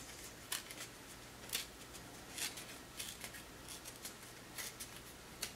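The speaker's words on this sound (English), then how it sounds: "Very comforting though to tear paper." Paper being torn by hand to shape a Christmas tree card, a series of short crisp rips and tears spaced irregularly over quiet background, close and fairly soft.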